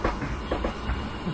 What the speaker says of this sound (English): Here comes the train